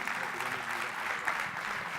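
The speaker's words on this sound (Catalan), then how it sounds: "Un aplaudiment per la Rocío Lara, que no sé on està, però ha d'estar per aquí." Brief, even applause from an audience at a school technology event honoring a robotics participant, a soft continuous patter of many hands with light crowd murmur.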